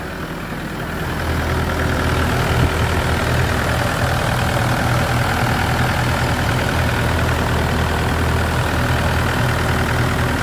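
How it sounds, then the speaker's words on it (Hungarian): A Mazda BT-50 pickup engine idling steadily just after being started, a constant low mechanical rumble with an even tick, close and loud with no talking. "beindítottam, szépen ketyeg az autó"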